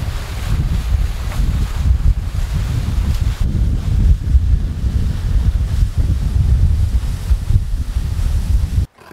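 Strong wind buffets the microphone on a ferry crossing to Grand Island in Michigan. The roar is loud and constant, with waves and water rushing underneath, until it cuts off abruptly at the end.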